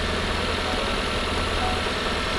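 Hyundai Sonata New Rise hybrid engine running with the engine bay open, a steady close rumbling hum with broadband mechanical noise, constant in level and without speech.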